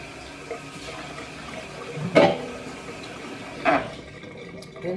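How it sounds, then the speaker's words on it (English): Tap water running while a container is rinsed out for recycling, a steady faint wash of water with a couple of brief louder splashes, in a quiet indoor room. "I gotta rinse this out for the recycling."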